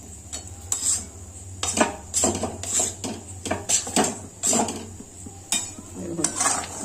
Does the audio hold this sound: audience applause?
no